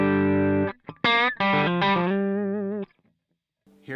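Clean electric guitar played through a Sur SH100 Plexi-style amp, a few ringing chords and notes with short gaps, up close and fairly loud with no talking.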